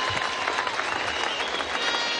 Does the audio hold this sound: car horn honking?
no